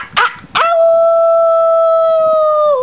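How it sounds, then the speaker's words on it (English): Two short yips lead into one long, steady wolf howl that holds a clear tone for about two seconds, loud and close, then tails off at the end. "That is a wolf."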